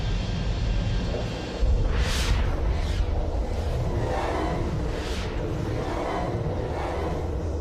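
A sonic boom in a science-fiction film about an alien return: a heavy, continuous low rumble fills the scene, with a few sharp whooshing bursts rising over it, loud throughout.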